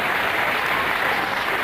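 Show jumping spectators at Millstreet applaud an Irish rider entering the arena, a steady, even wash of crowd clapping heard at a distance.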